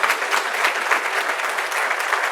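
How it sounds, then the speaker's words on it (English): A room full of people back together in person breaks into sustained applause, dense and steady clapping filling the space evenly from start to finish with no pauses. "Can we give her another round of applause,"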